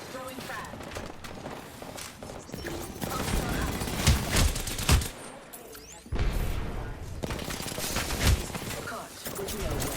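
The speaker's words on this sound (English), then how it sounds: "a guy shooting at me with a prowler, a guy shooting at me with an R45" Video game gunfire from Prowler and R-45 weapons crackles in rapid bursts, with several sharp, loud shot clusters, a brief pause near the middle, then renewed firing alongside footstep-like thuds.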